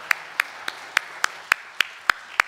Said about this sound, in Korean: 우리 박수를 칠 때 대충 이렇게 치지 말고 좀 세게 치면 어떨까요?